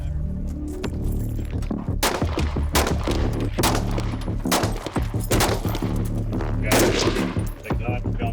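Bursts of gunfire ring out during a vehicle bailout drill, loud, overlapping shots cracking over a constant engine throb, with sharp reports scattered throughout and no clear talk.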